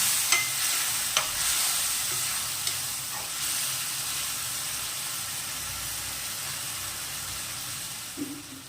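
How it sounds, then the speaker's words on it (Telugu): Vegetable pieces coated in turmeric are stirred in a hot pan, with a steady frying sizzle and hiss throughout and a few soft scrapes of the spoon. The sound is close and continuous, with no talking. "పసుపు అంతా ముక్కలు పెట్టేటప్పుడు బాగా కలుపుకుందాం."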